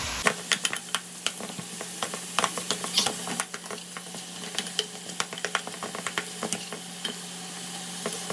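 Lean ground beef, about 93 percent lean, sizzles in a pan while a utensil stirs it, giving a continuous frying hiss broken by irregular scrapes and clicks close up.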